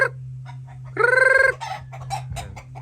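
Gilmore Hatch gamefowl chickens in a backyard breeding pen give a loud, close run of harmonic clucking calls, with shorter calls and a steady low hum around them.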